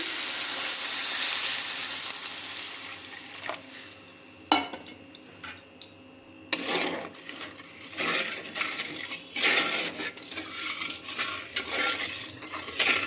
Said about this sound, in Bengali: এবার আমরা এতে অনুমান মতন জল দিয়ে দিচ্ছি।